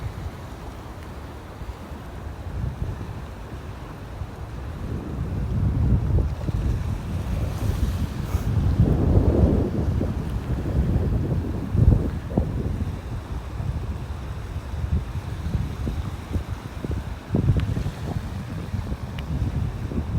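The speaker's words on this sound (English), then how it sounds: "Boy, it is breezy, as you can hear, I'm sure." Steady wind rushes and buffets across the microphone on an open beach in North Naples, Florida, with gusts swelling and fading and a low surf roar underneath; no talking.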